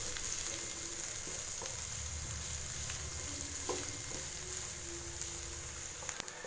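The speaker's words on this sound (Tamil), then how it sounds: "சேர்த்துட்டு வெங்காயம் கொஞ்சம் நல்லா வதங்குற அளவுக்கு வதக்கி விட்டுக்கோங்க." Chopped shallots sauté in a hot pan with a steady, close sizzle throughout, broken by a few occasional soft clicks of a utensil against the pan.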